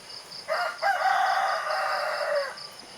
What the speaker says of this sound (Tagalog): nag-alarm na yung cellphone ko